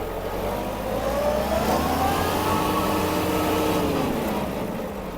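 A Japanese Kubota GT-3 mini tractor engine accelerates nearby, a steady mid-pitched drone whose tone climbs and swells in the middle before levelling off, with no voices.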